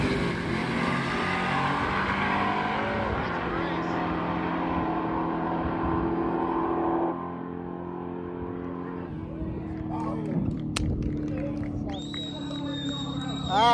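Fast 8 class race cars in a drag race final at Rocky Mountain race week hold a loud, sustained engine roar that gradually fades, while a commentator talks over it throughout.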